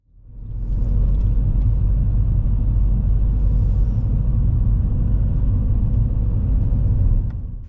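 A car drives along a 20 mph residential road with speed bumps, heard from inside as a steady low engine and road rumble that holds evenly for several seconds with no talk.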